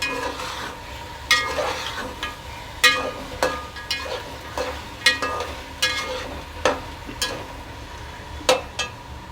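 Potatoes and peas stir-fried in a pan for matar pulao, a steady close sizzle broken by repeated sharp scrapes and clinks of a spatula against the pan, roughly every second, with no talking.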